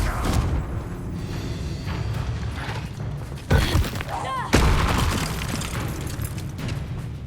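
Confringo spell blasts in Hogwarts Legacy combat, with booming explosive impacts at about 3.5 and 4.5 seconds over a continuous din of battle effects and music.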